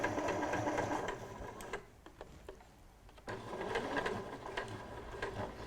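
A sewing machine runs steadily, stitching closely along a piping cord, pausing briefly midway with a few faint clicks before resuming its quiet, even hum.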